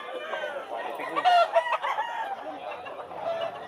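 Chickens and roosters at a Bulacan pet market, clucking and crowing together in a busy overlapping chorus, with one nearby call rising sharply midway and faint voices underneath.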